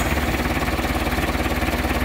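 A Case 830 tractor engine idles close by in a cornfield, a steady low rhythmic chug with a rough vibrating tone that stays loud and unchanging.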